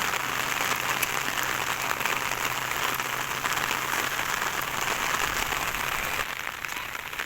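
Heavy rain pours down on rice spread out to dry, a dense, loud, steady hiss of drops striking the grain and the ground, easing slightly at the end.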